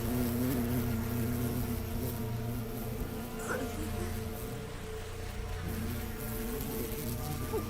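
Bees or hornets buzz in a video game, a steady hum with faint wingbeat flutter running continuously under a quiet background, moderately distant and low in level.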